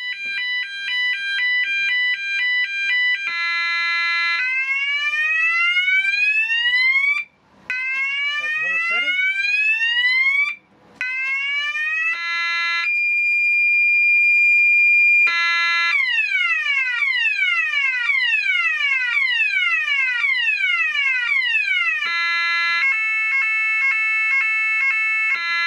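An e2s warning signal unit under test cycles loudly through a series of electronic alarm tones: rapid warbles, rising and falling sweeps, steady beeps and pulsing patterns, with two short gaps between tone changes.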